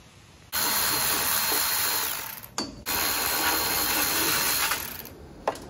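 A power tool, likely an impact driver, whirs loudly in two long bursts separated by a short gap while removing the fuel tank bolts from a Murray go-kart with a 6 HP Tecumseh engine, ending with light clanks.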